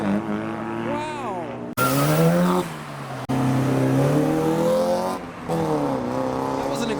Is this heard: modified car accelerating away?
yes